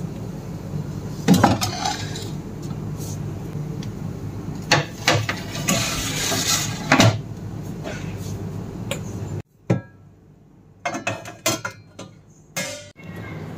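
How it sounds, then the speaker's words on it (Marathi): Bowls of set curd are placed one by one into a fridge, giving repeated clinks and knocks of dishes on shelves along with a door sliding and a thud, followed by a brief quiet gap and a few more scattered clatters. "ही भांडी एक एक करून आपण फ्रीजमध्ये ठेवून देऊयात."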